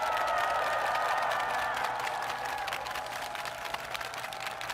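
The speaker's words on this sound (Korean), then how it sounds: "큰 박수로 격려 부탁드립니다" Crowd applause at an outdoor election rally: a dense wash of many hands clapping, steady and fairly loud at first, then slowly thinning and fading.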